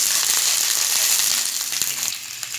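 Dried red chillies, slit down the middle, fry in hot oil for coriander chutney, giving a steady loud sizzle and crackle that fills the clip with no talk, a few soft clicks and stirring taps near the end.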